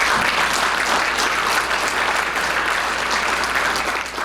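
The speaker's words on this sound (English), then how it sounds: "Let's give Dr. Shah a round of applause" A room of listeners at a talk on bladder issues in multiple sclerosis gives Dr. Shah loud, sustained applause, thick and even throughout and easing slightly at the very end.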